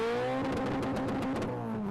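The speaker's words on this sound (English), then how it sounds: "The engine gunned so hard the car backfired." A car engine revs hard in snow, a loud, sustained roar with steady tonal whine and rising pitch close by; no distinct backfire pop stands out in the short burst.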